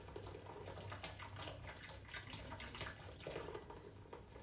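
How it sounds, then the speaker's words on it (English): Seltzer water pours and fizzes as a continuous dense hiss and crackle of bubbles, steady and fairly close, with no talking. "oh, that is an unfortunate fizz"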